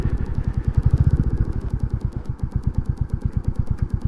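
A Royal Enfield Classic 350 motorcycle idles nearby, its single-cylinder engine thumping in a steady, rapid, even rhythm for the whole stretch, with no voices.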